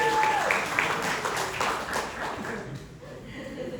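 A congregation claps together during a worship and sharing session, a moderate burst of applause that fades out after a few seconds, with a voice heard over it.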